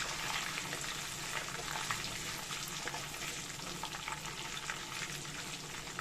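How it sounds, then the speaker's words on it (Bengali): Whole cumin seeds and a bay leaf frying in hot oil as a tempering for a banana-blossom and prawn dish: a steady, faint, crackling sizzle with no pauses. "ফোড়নে আমি সাদা জিরে দিয়ে দিয়েছি আর এই দিয়ে দিলাম তেজপাতা"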